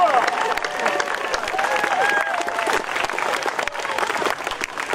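Steady applause and some cheering from a crowd at a Veterans Day ceremony in San Dimas for veteran Charles Graham, a continuous clapping wash with a few whoops and voices layered on top.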